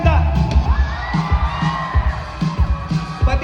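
A crowd at Fisher Mall shouts and cheers in bursts over steady loud music, with rhythmic thumping beats underneath and voices rising and falling throughout.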